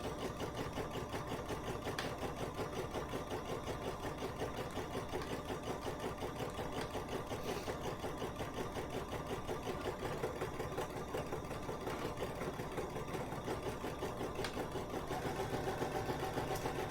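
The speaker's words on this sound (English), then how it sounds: "while we sew this buttonhole, okay? And then the buttonhole will stitch just like the previous buttonhole." A BERNINA sewing machine stitches a buttonhole, a steady rapid mechanical whir with even needle clatter running continuously and close, no talking over it.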